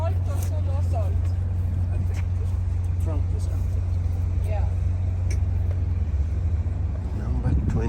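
A classic BMW, an E30 M3, rumbles past at a classic car rally, a steady low engine drone under near continuous talk from onlookers, with a faint swell as traffic moves by at the end.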